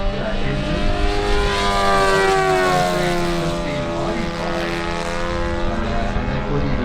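Supercharged Rolls-Royce Merlin aircraft engine at an air show, a loud steady propeller drone with rising and falling harmonic tones as the plane passes, sustained throughout with no talk.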